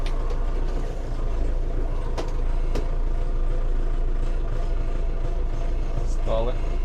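A small mini tractor engine idles and rumbles steadily at close range while parking in a ditch, a constant low drone with a few brief clanks, and a person talks over it.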